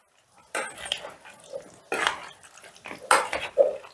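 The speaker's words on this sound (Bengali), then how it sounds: "ঢেলে দিয়ে দুটো স্পুনের সাহায্যে এইভাবে ভালো করে মিশিয়ে দিতে হবে।" Spoons clink and scrape against a bowl as yogurt is worked into raw chicken, a series of short clatters and soft scrapes close by, with brief pauses between strokes.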